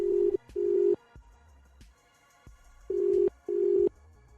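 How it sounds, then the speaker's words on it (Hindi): A telephone ringback tone plays as a call is placed in a Hindi horror story, two pairs of short steady buzzing rings separated by a pause, loud and clean with nothing else over it. "सैम ने एक घर को देखने के बाद बाहर निकलते हुए बुमरा को फोन लगाया।"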